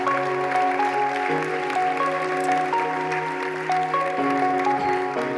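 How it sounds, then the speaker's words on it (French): An audience applauds Damien as he receives a commitment medal at a ceremony. The clapping is dense and steady throughout, with sustained musical tones playing underneath. "merci de faire un tonnerre d'applaudissements à Damien"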